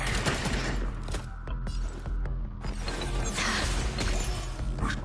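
A volley of gunfire rattles out in Honkai: Star Rail, dense crackling shots and crashing impacts layered over a steady game music bed, with a brief lull midway before the barrage resumes.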